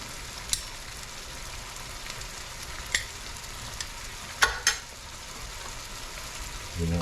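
Hot peppers and scallion sizzle in a pan of spicy snapper nuggets seasoned with lime, a steady quiet frying crackle with a few sharp clicks and a stir near the end.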